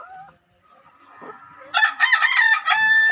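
After a few soft clucks and a quiet pause, a country rooster at a poultry-keeping spot lets out one loud, close crow with a drawn-out final note.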